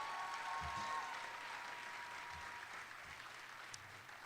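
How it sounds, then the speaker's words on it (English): Crowd applauds the Muntu Dance Troupe at an outdoor neighborhood kickoff celebration in Chicago, steady clapping at moderate distance, with a few low thumps underneath. "Can we hear another round of applause for the Muntu Dance Troupe?"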